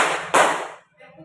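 Elementary school class doing a counted clap game, with a loud burst of broadband clapping from many children cut off abruptly, then a short stretch of quiet and faint voices.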